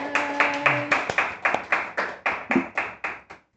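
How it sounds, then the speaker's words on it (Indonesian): A few people clap hands in a slow, even rhythm during an online talk, about a dozen distinct close claps spaced roughly a quarter second apart, with a brief tone and faint voice early on. "Kak Kesia, tepuk tangan dong"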